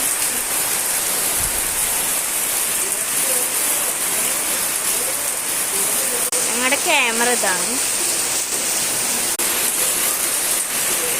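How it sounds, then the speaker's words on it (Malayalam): Heavy rain pours in a dense, loud, unbroken roar of rainfall, while a person speaks briefly over it midway. "നല്ല മഴയാണ്."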